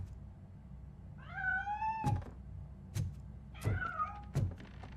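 A cat meows twice in the RoboCop: Rogue City video game, each meow followed by dull knocking thuds; the sounds are close and clear, with no talking.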